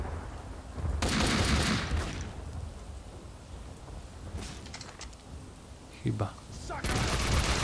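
Gunfire in Max Payne 2, heavy bursts of shooting that start abruptly, rattle for about a second and return later, with softer crackles and someone speaking Polish between the volleys.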